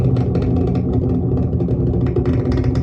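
Heard from 10 to 15 miles away, the Artemis rocket launch sends out a deep, continuous rumbling roar with crackling texture, steady and powerful throughout, with no talk over it.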